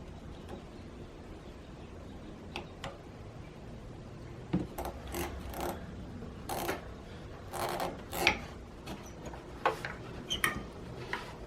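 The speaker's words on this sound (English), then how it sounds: "First thing I'm going to do is just remove all these vacuum lines that are connected to it." Rubber vacuum lines are tugged and popped off the boost pressure control valve on a Saab 9-3, giving faint rubbing, scraping and sharp clicking snaps in irregular bursts with no talking.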